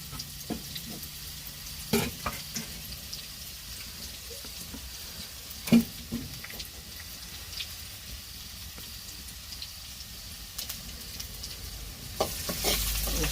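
Curry leaves hit hot oil on a rural wood-fired clay stove, crackling and sizzling steadily throughout with scattered sharp pops, close and continuous with no talk.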